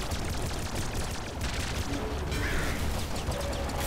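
Gunfire in the Nuclear Throne video game crackles in a dense, steady barrage of rapid shots and blasts, loud and continuous from start to finish, with no voices.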